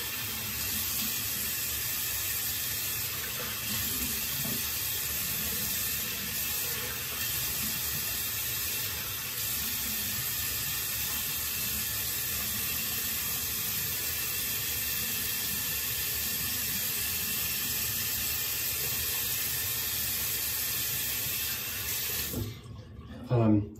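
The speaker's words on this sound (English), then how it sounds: "Here, let me wash this off real quick." Tap water runs continuously while a cheap synthetic shaving brush is rinsed under it, a loud steady splashing rush that cuts off abruptly near the end, with no speech.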